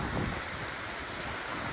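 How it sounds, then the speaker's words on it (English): Heavy rain and gusting wind in Phoenix just after a passing dust storm, a steady broadband wash with low rumbling buffets, loud and continuous with no voices. "Now I got heavy rain and wind."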